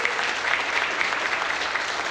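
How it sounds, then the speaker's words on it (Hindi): Applause from an audience at a business event, a steady, dense wash of clapping that runs evenly through the whole stretch with no voices on top. "एक बार जोरदार ताली होनी चाहिए सभी लीडर्स के लिए"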